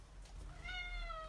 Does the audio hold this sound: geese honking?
no